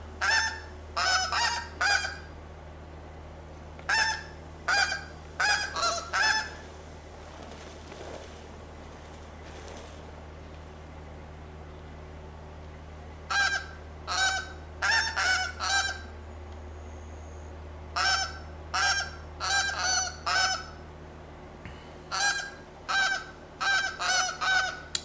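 Geese honk in repeated bursts of several calls each, separated by quiet gaps over a low steady ambient hum, in the hunting video game The Hunter: Call of the Wild at Askiy Ridge.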